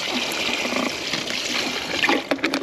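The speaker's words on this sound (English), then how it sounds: "Now pour some salt water in here" Salt water poured into a fish cooler holding freshly caught seatrout, a steady close splashing, trickling stream that runs the whole clip with no talk.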